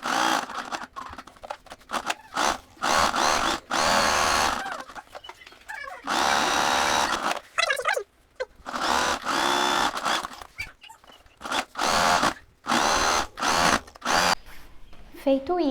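A sewing machine runs in repeated bursts of fast whirring stitches, stopping and starting as it sews the collar and hem of a Chanel-style jacket, loud and close with short pauses between runs.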